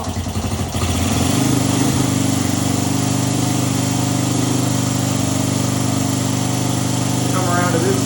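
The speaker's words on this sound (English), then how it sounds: "I'm giving it a little throttle right now to keep it alive" A 1975 Honda XL125 motorcycle engine idles with a steady, buzzy, high-pitched drone while held alive on light throttle, loud and close, running continuously without a break.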